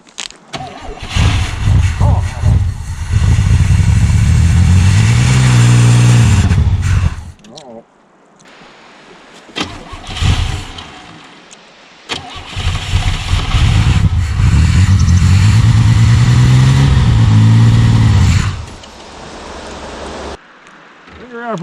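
A 1982 Pontiac Firebird, parked in a field since 1993 and just fitted with a new fuel pump, cranks and fires into a loud, rough run. There are two long bursts of engine noise with a short quiet gap between them.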